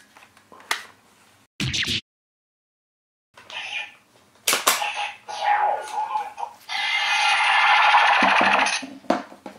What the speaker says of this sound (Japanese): 召喚音が鳴るんですね